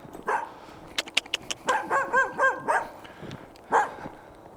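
A poodle barks in a string of sharp, fairly close yips, several quick ones and then a run of longer rising barks, with a final bark after a pause.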